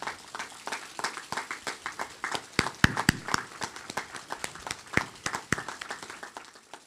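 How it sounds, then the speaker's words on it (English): At a college spring commencement, the audience claps for mentors, instructors and therapists: a scattered, fairly faint round of distinct individual claps that stays uneven and loose throughout. "Please stand and give a round of applause for your mentors, instructors, therapists,"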